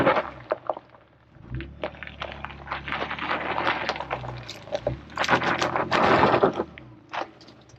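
A camper van reverses slowly along a rough, rocky trail in the Northern Sierra, giving close, loud crunching and knocking of tires over stones with scattered sharp thuds and rattles, building in intensity before easing off.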